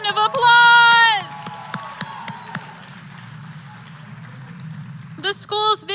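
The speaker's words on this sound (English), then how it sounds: "Let's give the drumline another round of applause." A school drumline gets applause from a crowd at a district state-of-the-district address. Clapping and cheering swell after a short tonal burst, then settle into steady crowd noise with voices mixed in before rising briefly again near the end.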